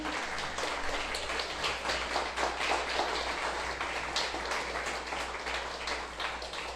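A church congregation applauds, dense continuous clapping from many hands filling the room at steady strength.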